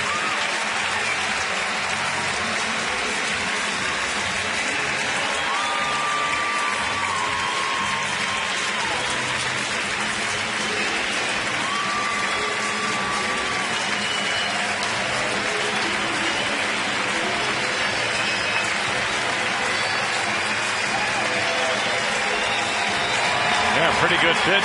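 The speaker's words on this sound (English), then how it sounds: "the teammates on the bench standing and applauding him" Teammates and the ballpark crowd applaud a baseball player's 1,000th career hit, a broad, continuous wash of clapping and cheering that holds steady throughout, with a broadcaster's voice talking over it.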